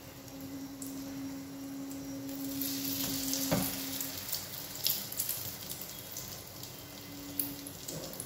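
White bread soaked for French toast fries in hot oil, giving a steady, fairly quiet sizzle with a few brief crackles, heard alone.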